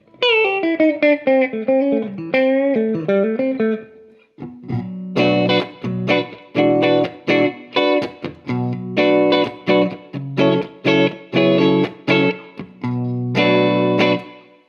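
Semi-hollow ES-335-type electric guitar on the middle pickup position with a mellow, hollow-bodied tone, a short melodic run followed by rhythmic strummed chords, close and clear with light effects.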